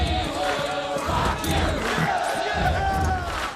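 A crowd of peasants sings at a medieval jousting tournament in A Knight's Tale, a dense roar of massed voices with steady low stomping thuds running throughout.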